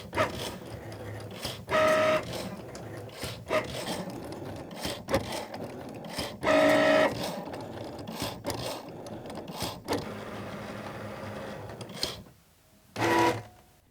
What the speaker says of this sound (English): Use your brayer to make sure that your material sticks down very well to your mat, as you don't want it moving around while it cuts, and cut on your machine.